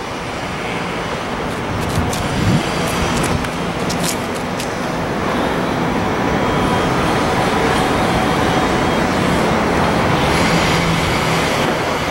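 Monorail train running along a riverside line, a steady broad rumble of wheels and rolling stock sustained throughout, with faint squeals and clatter near the start.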